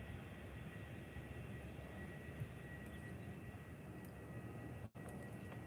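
Aircraft passing over Faro Airport without landing, a faint distant steady engine rumble and hiss lasting throughout, outdoors with a brief dropout near the end.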